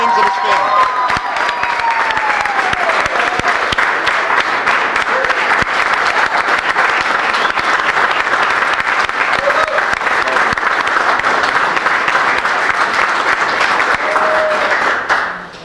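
Sustained audience applause at an evening ceremony for honorary firefighter Anthony Katz, loud dense clapping from a large crowd with scattered cheers and whoops, holding steady before fading at the end.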